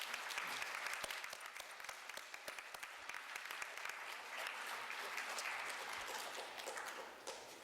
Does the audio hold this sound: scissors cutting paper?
no